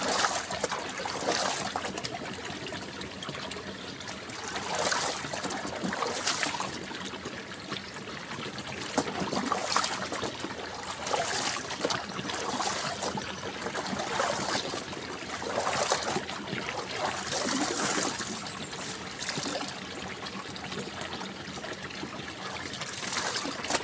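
Cold spring water in a rural province flows and trickles steadily while clothes are being washed and rinsed, with recurring splashy surges over a continuous watery hiss.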